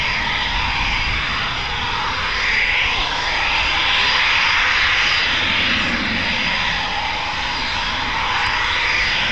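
Eurofighter Typhoon jet on a performance takeoff with afterburners lit, a loud, sustained roar that swells and holds steady throughout with no talk.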